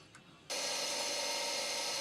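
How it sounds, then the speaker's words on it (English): A bench grinder drones steadily in a home machine shop, starting abruptly after a half-second of near quiet and holding a constant broadband whine throughout. "what you hear is my grinder in the background"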